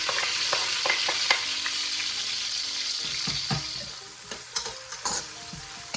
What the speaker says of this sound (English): I'm going to let this fry for a couple minutes until I see the edges of the onion start turning brown